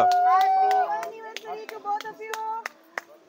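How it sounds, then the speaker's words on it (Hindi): A few people clap in scattered, uneven bursts at an outdoor picnic anniversary cake cutting, while voices sing and talk over the sparse, fairly close claps. "ताली मारो"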